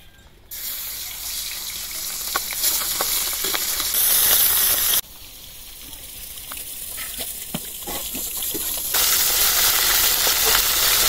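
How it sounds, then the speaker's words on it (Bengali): Pabda fish, rubbed with salt, turmeric and chili, frying in hot oil in a home kitchen, giving a steady loud sizzle and hiss throughout, with brief shifts in level as the pan is handled. "মাছটা আমি আগে ভেজে নিই।"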